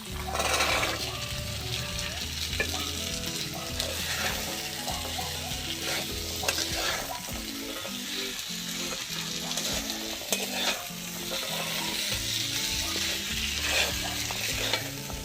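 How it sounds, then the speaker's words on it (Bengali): Green peas stirred and fried in a karahi with spiced boiled potato for a ghugni, steady sizzling under repeated scraping and clattering spatula strokes, close and continuous. "দেখুন বন্ধুরা আলু সেদ্ধটা মশলার সাথে ভালোভাবে মিশে গেছে এবারে আমি ধোয়া কড়াইশুটিটা দিয়ে দিচ্ছি"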